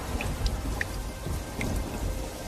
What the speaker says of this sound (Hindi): ये बारिश का सिलसिला यूं ही कुछ दिन तक जारी रहता है